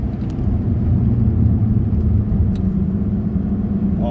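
A Toyota MR2 Mk3 Roadster (Spyder) cruising on a dry road, its steady engine drone and road rumble heard from inside the cabin at constant loud level, without voices.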